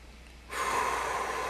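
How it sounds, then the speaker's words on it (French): A person takes one deep, slow breath in through the nose during a relaxation exercise. The airy inhale begins suddenly and stays steady and close for about a second, with no talking. "Prendre une grande inspire"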